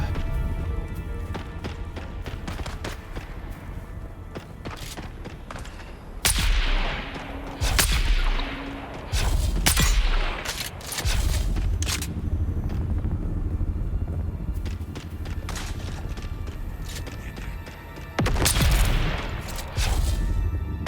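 A fight in the video game Dune: Awakening: scattered gunshots and booming bursts ring out over a busy running, clattering game soundscape, with several loud clusters of fire and no talking.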